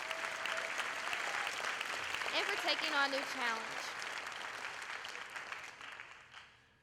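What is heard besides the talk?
audience applause for state officer candidates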